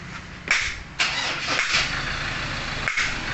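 A 2015 Ford Ranger XLT 2.2 diesel cranks and fires after a turbo replacement, several sharp starter bursts followed by the engine catching and running at a rough, loud idle nearby.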